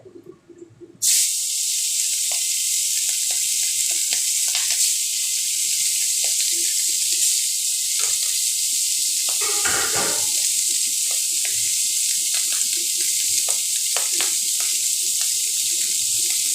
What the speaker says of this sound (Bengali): এবার থালাতে বাকি যে কটা মাছ আছে সেগুলো আমি ভাজাবো